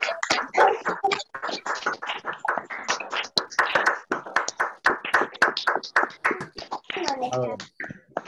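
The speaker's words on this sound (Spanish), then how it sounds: "Así que vamos a aplaudir." Participants clapping over a video call at an online university enrollment ceremony, choppy bursts of clapping compressed through the call, mixed with overlapping voices.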